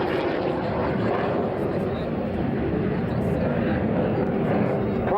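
A jet aircraft with around 5,000 pounds of thrust flies inverted past the crowd at the Shoreham Airshow, producing a continuous, fairly close broadband roar that stays steady for the whole stretch.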